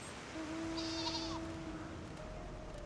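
A sheep in Final Fantasy XIV Endwalker gives a single drawn-out bleat, fairly close and clear over quiet game ambience.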